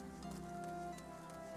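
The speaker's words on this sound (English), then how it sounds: "Ugh, it's raining." Rain falls in a video game as a soft, quiet, steady patter beneath sustained tonal game music, lasting the whole short stretch without voices.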